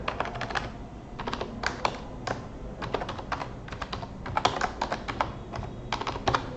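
Fingers type on a computer keyboard while entering text on a presentation slide, producing a continuous run of quick, crisp key clicks at close range with no talk.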